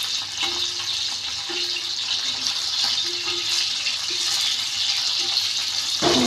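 Fish fries and sizzles in a pan while being flipped, a steady bright crackle with soft scraping knocks at intervals and a louder burst at the end.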